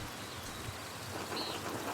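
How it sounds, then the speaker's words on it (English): Steady rain falls in the medieval-set video game Pentiment, a constant wash of patter over a faint low rumble, with no voices over it. "The rain is turning everything to mud."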